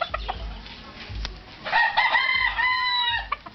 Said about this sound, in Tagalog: puhog nga manok ni Ben oy